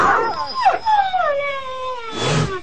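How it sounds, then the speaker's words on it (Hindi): A frightened dog whimpers and howls in a cartoon scene, with long wavering cries that slide downward, fairly close and loud, followed by a short breathy yelp near the end, heard alone without talk. "ऐसा लग रहा था किसी कुत्ते की आवाज आई है ना?"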